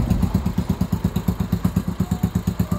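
A Yamaha Sniper MX135 motorcycle with a replaced engine block and head idles after its rebuild, a close, steady and rapid chugging putter with even pulses and no voices.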